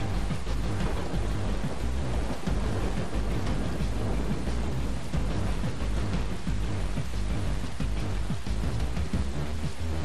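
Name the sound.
rain and thunder in Far Cry 3 video game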